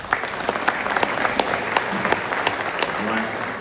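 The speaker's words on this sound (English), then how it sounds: "y'all better quit clapping" An audience at a live event applauds steadily, with dense clapping that stays loud and even throughout and no voices clearly standing out.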